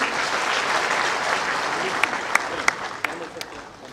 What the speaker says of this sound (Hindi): आप सभी लोग इनका जोरदार ताली में स्वागत कीजिए